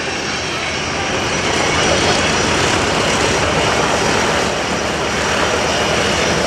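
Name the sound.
military jet aircraft taking off with full afterburner at an airshow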